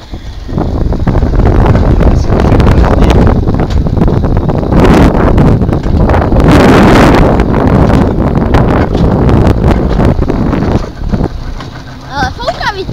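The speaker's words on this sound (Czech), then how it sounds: "Ale fouká vítr." Strong wind buffets the microphone outdoors at Hei Park in Tošovice, a loud, continuous roaring rumble that runs nearly the whole time and eases slightly near the end, with no clear talk over it.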